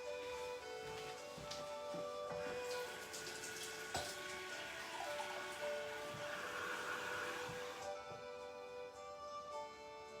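A cup of lukewarm water for multi-grain bread dough runs from a tap, a soft steady rush of water that is faint and constant for several seconds before tapering off.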